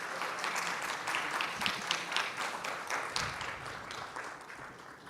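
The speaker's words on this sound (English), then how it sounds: "Please give a round of applause." Audience applause at the Tech for Impact Summit 2025, a dense, steady round of clapping from a crowd that holds for about five seconds and fades slightly toward the end.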